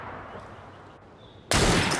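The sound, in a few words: gunshot in the video game Assassin's Creed Syndicate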